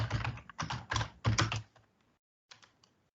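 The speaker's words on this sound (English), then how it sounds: "You just type your name." A name is typed on a computer keyboard: a close run of quick, crisp key clicks for about two seconds, then a brief pause and a few more soft taps.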